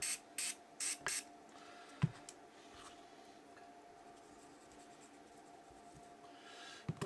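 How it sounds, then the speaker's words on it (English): Spray fader blending aerosol squirted from a can in a series of short bursts near the start, followed by quiet rubbing and faint handling sounds with a couple of brief taps. "So squirt in some of this fader stuff."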